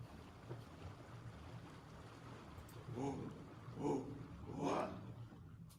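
A boat sound effect in a video game plays as soft, steady wind and water wash with a few faint tonal swells, quiet beneath the background.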